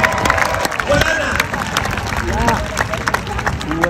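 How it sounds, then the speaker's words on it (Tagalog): An audience at a church-held civic rally claps and cheers in mixed bursts, while several voices call out over the lively crowd noise. "Kayo palakpak ng palakpak ngayon"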